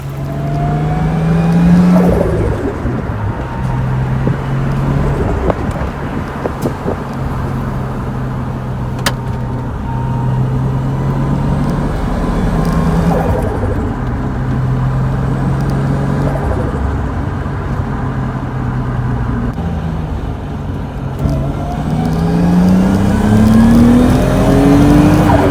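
A Nissan 240SX fitted with an RB25 turbo engine accelerates hard, its engine note rising and falling through gear changes in a loud, continuous in-car drone with no talk.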